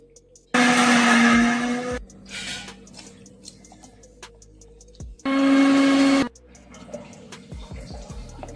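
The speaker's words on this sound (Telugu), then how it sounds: "ఇవన్నీ మిక్సీ పట్టుకోవాలి" A kitchen mixer grinder whirs loudly through two separate runs, each about one to two seconds, grinding peanuts and spices into a paste for brinjal curry, with quieter handling clatter between them.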